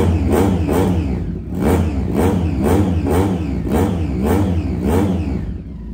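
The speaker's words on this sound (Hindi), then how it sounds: "अब लेके चलते हैं आपको इसके साउंड टेस्ट की जाने और फिर बात करते हैं इसकी प्राइस के बारे में।" Yamaha R3 replica heavy motorcycle engine and exhaust revved repeatedly, loud close rhythmic surges about every half second, with clattering engine tone and no talk.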